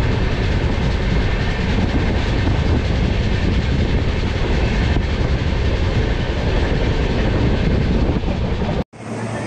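The overnight Gujarat Sampark Kranti Express from Ahmedabad runs on the rails, a loud, steady rumble with rhythmic clickety-clack heard from inside the carriage, briefly cutting out near the end.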